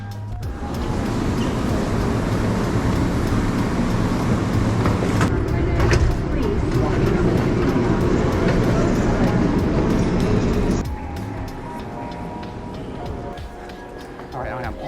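Airport terminal train ride: a loud, steady rumble and rolling hum of the people-mover, with a shift in tone near the end as it slows, and some talk underneath.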